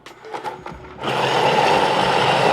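A Thermomix TM7 blends mango ice cream, starting with a few clattering bursts before settling into a loud, steady, high-pitched whirring drone that runs continuously to the end.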